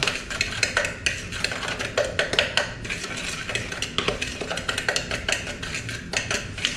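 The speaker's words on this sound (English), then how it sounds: "Alrighty, go ahead and mix this dry up." Dry ingredients for a homegrown pumpkin pie, with fresh ginger among them, are stirred in a bowl: a steady run of quick scraping clinks of utensil against bowl, close and busy, with no talking.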